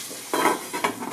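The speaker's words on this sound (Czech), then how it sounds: "když smažíte chobotnici, je důležitý přikrýt pánvičku" Octopus frying in a covered pan gives two short bursts of sizzling and stirring, close and fairly loud against a quiet kitchen background.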